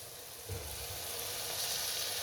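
Long-cut green chillies and pre-fried okra (bhindi) sizzle in masala, a steady close hiss of frying that swells slightly after the ingredients land and continues evenly without speech.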